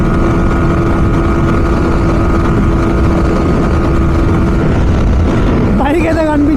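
A Yamaha R15M motorcycle runs hard near top speed on an open road, its engine a loud, steady drone buried in constant wind roar, with a voice breaking in near the end.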